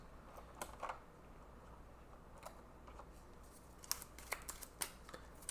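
A deck of cards being shuffled during a tabletop game, heard as faint, quiet riffling and tapping flutters in scattered bursts against a soft room background.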